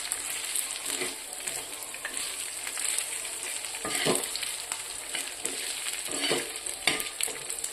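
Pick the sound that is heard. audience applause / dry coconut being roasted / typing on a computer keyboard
dry coconut being roasted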